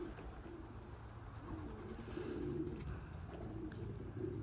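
Racing pigeons coo softly around a loft as young birds are let out, low steady cooing with occasional brighter chirps over a constant background hum, fairly close and moderate in level.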